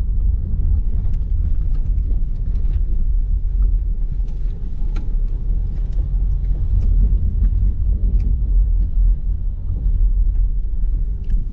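A car driving on a sandy dirt road near Lake Shalkar in Kazakhstan, heard from inside as a steady, loud low rumble of engine and tires, with faint scattered rattles and knocks over the continuous drone.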